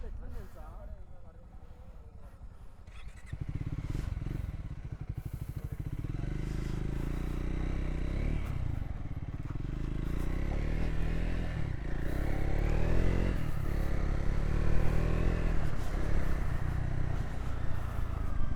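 A Royal Enfield Himalayan motorcycle rides along a road between Hyderabad and Narsapur, its engine loud and close with rising revs and steady wind rush, under intermittent talking.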